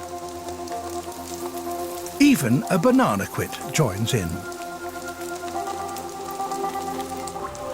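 Rain patters steadily on rainforest leaves where hummingbirds bathe, a soft continuous wash of drops heard alongside a narrating voice.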